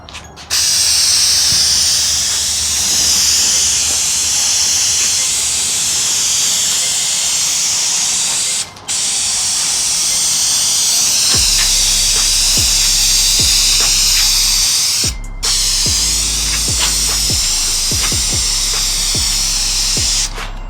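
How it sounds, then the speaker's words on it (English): A spray can applying clear coat to a car's front splitter, loud continuous hissing bursts separated by two brief pauses, with a low rumble and clicks in the later bursts. "I'm gonna just do even, slow sprays."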